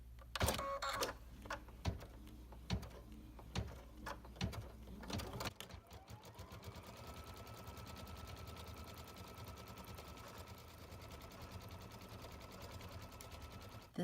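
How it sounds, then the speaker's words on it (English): Several sharp clicks and taps come first, then an embroidery machine starts stitching out a fall table runner, settling into a steady, continuous mechanical whir with a fine rapid needle rhythm, close and moderately loud, with no voices. "now we'll go over to the machine and stitch it out"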